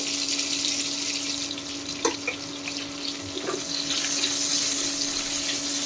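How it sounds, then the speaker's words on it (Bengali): Capsicum and onion frying together in a pan for restaurant-style fried rice with paneer, a steady moderate hiss with a constant hum beneath and a few faint clicks. "এখন আমি ক্যাপসিকাম আর পেঁয়াজগুলো একসাথে ভেজে নিচ্ছি"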